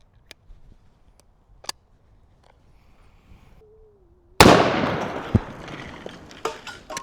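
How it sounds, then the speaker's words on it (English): A revolver firing 350 grain polymer tip .500 S&W Magnum rounds: faint ticks and a brief whine give way to one very loud, close shot with a long ringing decay and scattered clatter after it. "Stepping up to our revolver, we're shooting some 350 grain polymer tip"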